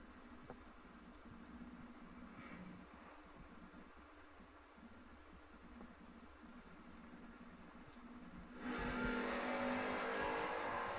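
A wheelie-prone S10 pickup drag racing on a strip. After a long low idle-like hum, a sudden loud, broad engine roar bursts in near the end and holds as it accelerates.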